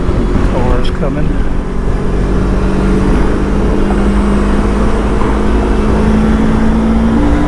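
A Lifan KPT 400 motorcycle fitted with a 43-tooth rear sprocket drones steadily while being ridden on the road, its loud engine hum and wind rush constant throughout as the rider talks over it.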